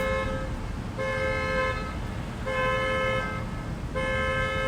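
Horn of a nearby parked car sounding in a steady repeating pattern, four long blasts of roughly a second each separated by short gaps, loud and close over constant background noise.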